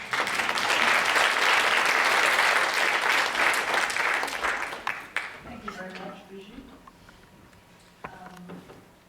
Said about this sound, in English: So please give an applause to her.